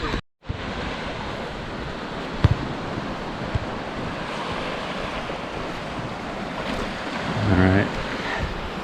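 Small waves washing onto a little beach beside a rocky peninsula, a steady close surf hiss with wind buffeting the microphone throughout and one brief swell of water near the end.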